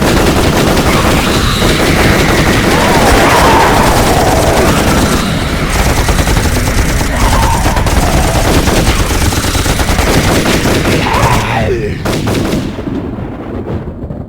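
Heavy machine gun fire in an audio drama's final battle against a wall of monsters, a relentless, loud barrage of overlapping bursts that rolls on without pause before tapering slightly at the end.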